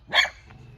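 A single sharp dog bark rings out close and loud outdoors, followed by a faint softer yip, with low background noise.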